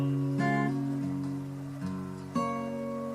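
A few fingerpicked guitar notes from a song over an open E bass string, three soft plucks that ring out quietly and close.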